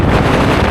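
Strong wind buffets the microphone on the Dalsnibba skywalk above Geirangerfjord, a loud, steady roar filling the whole moment with no let-up.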